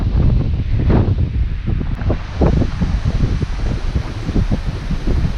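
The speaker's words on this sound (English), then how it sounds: "You can see how hard it's blowing." Strong wind blows steadily outdoors on a dry, stormy day, a loud constant roar with gusty surges and rustling buffeting against the microphone throughout.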